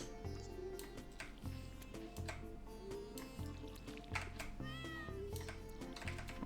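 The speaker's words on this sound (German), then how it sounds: "Und die Katze kommt auch noch miauen" Cat meowing in the farming video game Stardew Valley, a short game-sound meow heard over steady background music, with watering-can drip and splash effects nearby.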